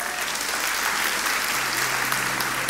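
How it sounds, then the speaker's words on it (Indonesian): Congregation at a church service clapping together in praise, a dense, even roar of applause sustained throughout, fairly loud with no voices standing out. "Kasih tepuk tangan untuk Tuhan."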